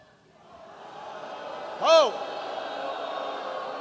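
At a rally in Florida campaigning for Hillary Clinton, a large crowd boos in a steady rising roar, and a single voice briefly exclaims over it.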